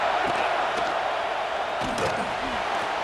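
Stadium crowd in EA Sports College Football 26 roars as a steady, dense wash of cheering through the whole stretch, with a few sharper shouts rising near the middle and faint commentary-like talk mixed underneath.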